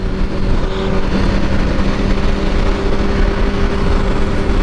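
A motorcycle engine runs while riding, a loud, steady roar blended with rushing wind noise close to the rider, without clear changes in pace.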